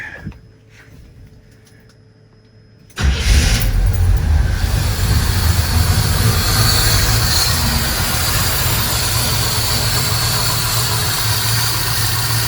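An engine fitted with Holley Sniper fuel injection cranks and fires at about three seconds, then settles into a loud, steady idle that runs on to the end, with quiet background before the start.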